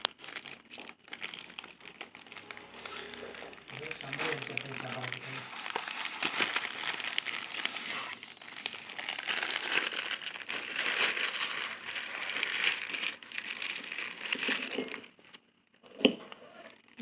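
Plastic food packaging taken from a freezer and handled with fish inside, a long continuous crinkling and rustling close to the microphone that ends with a brief thump.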